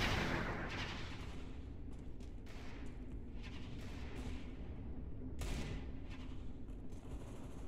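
Gunfire in Counter-Strike: Global Offensive during aim training, a series of faint, sharp shots at irregular intervals over a low steady background hum, with one heavier burst late on.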